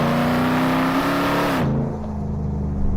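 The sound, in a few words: Hennessey Mammoth truck accelerating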